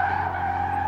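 Tires squeal steadily as a car drifts through a corner, a sustained high screech over a low engine hum, with no voices.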